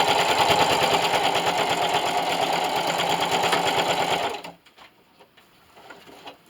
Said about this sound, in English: And I'm going to sew this down and backstitch at the end.